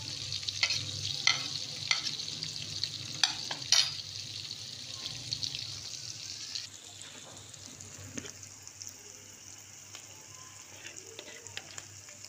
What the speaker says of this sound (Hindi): थोड़ा सा इसको फ्राई करेंगे। इसके बाद मैं इसके अंदर ऐड करूँगी सब्ज़ मिर्च,